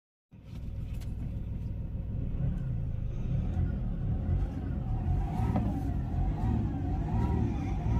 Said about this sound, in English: Now let's see by starting the engine and the engine noise